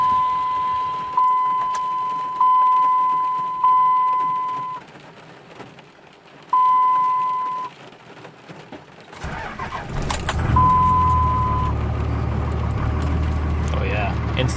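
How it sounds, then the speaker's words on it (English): A Cummins diesel truck engine cold-starts after a stretch of steady electronic warning chimes, catching with a sudden loud rumble that settles into a heavy, close idle. "Just cold starting the Cummins now."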